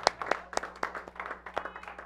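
An audience at a year-end community show claps: a brief, fairly small round of applause of distinct individual claps, moderately close, with no talk over it.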